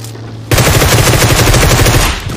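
Rapid burst of automatic gunfire in a battle royale shooting game, loud and close, a dense stream of shots lasting about two seconds after a brief quieter lead-in.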